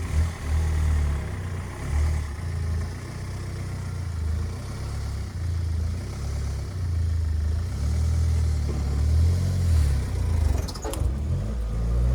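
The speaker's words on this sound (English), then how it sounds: "let's see if we can pull start the Mondeo" A Ford Mondeo engine being pull started, its steady low rumble running continuously and loud, with slight swells in pitch as it idles and revs, near and without speech.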